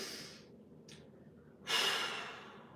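Deep breath during a floor mobility exercise with the forehead resting on the ground: a soft, airy inhale followed by a stronger, longer exhale, close and fairly quiet, with no talking.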